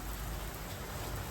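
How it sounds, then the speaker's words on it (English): Steady rain pours down in a Swiss mountain village near Grindelwald, a dense, even hiss across the whole short stretch with no voices or other sounds. "It's raining now"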